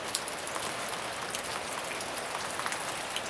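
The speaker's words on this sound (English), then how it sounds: "it's a pretty rainy day" Steady rain falls outside on a mild day with snow melting, a continuous even hiss of drops with scattered small patters, fairly faint and with no voices.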